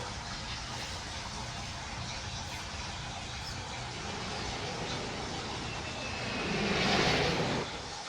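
Jet aircraft engine roaring in the Need for Speed No Limits racing game, a steady broadband whoosh throughout that swells louder near the end as the jet passes close.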